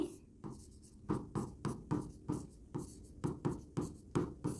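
Chalk strikes a board in a chemistry classroom, about a dozen quick, evenly spaced scratchy strokes, close and clear with no talk over them.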